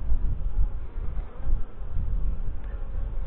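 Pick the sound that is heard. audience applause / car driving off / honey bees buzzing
honey bees buzzing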